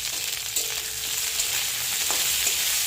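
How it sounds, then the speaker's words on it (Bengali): Winter vegetables stir-fried in a pan for a vegetable daliya, giving a steady dense sizzle throughout with a few soft stirring knocks, close and even, with no voices. "সব সবজিগুলোকে নেড়ে চেড়ে ভালো করে ভেজে নিতে হবে।"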